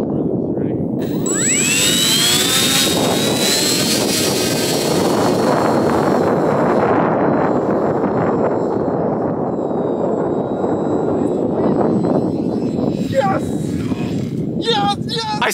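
An electric RC airplane motor, just reconnected to its ESC after coming loose, spins up with a rising whine and holds a steady loud high-pitched drone with broadband propeller wash, fading near the end as voices talk over it.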